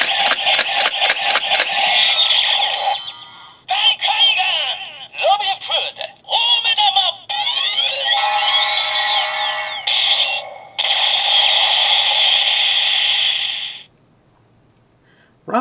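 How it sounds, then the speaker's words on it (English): A DX Robin Hood Eyecon toy plays its electronic sound effects: rapid beeping pulses, then a loud chopped jingle of bright tones with short gaps, ending abruptly into silence. "Robin Hood actually has this nice little effect where it just happens to stop on the green when it gets to the signature point"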